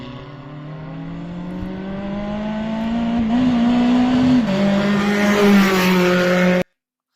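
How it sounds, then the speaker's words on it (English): A Formula X race car passes during a single-vehicle test session on a track, its engine whine building steadily as it approaches, peaking with a pitch drop as it goes by, then cutting off. "The first one is about the passing by of the single vehicle test session of the Formula X car"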